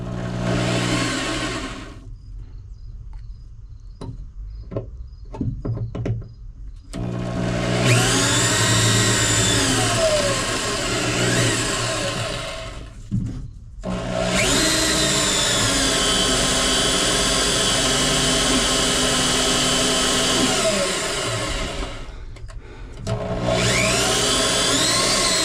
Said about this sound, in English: now with the use of our little mini right angle drill, which I can kind of run